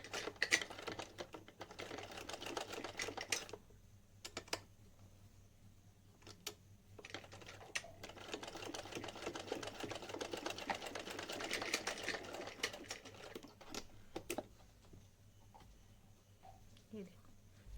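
Household sewing machine running in bursts while stitching a small dhoti kurta for a Laddu Gopal idol, steady mechanical whirr stopping and starting at close range, with someone talking between runs.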